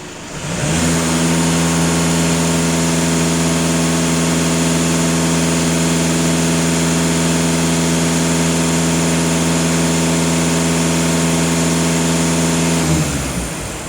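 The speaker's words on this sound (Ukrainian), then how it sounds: "Даю газ пол 2500 обертів." A VW Golf 7 with a 2.0 TDI diesel engine held at about 2500 rpm during emissions-system cleaning, a loud, steady droning hum with strong low harmonics that starts abruptly and drops away at the end.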